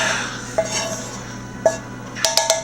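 A utensil scrapes and clinks against a cooking pan and bowl as caramelized onions come off the heat, with a few light metallic taps and scrapes spaced apart over steady background hum.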